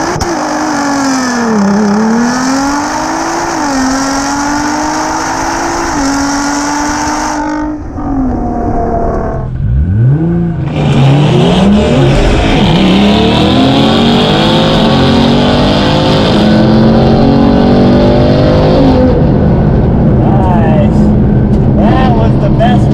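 A Nissan GT-R R35 and a 1000 hp Jeep Trackhawk race side by side, engines revving hard and loud with rising shift-by-shift howls, a brief lull, then both accelerate again in a long sustained roar.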